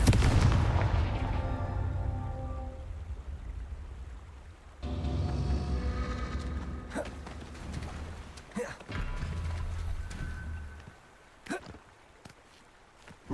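Confringo fire spells blast in the Hogwarts Legacy video game, with a booming impact followed by a rumbling burst and several sharp cracking hits against background game sound.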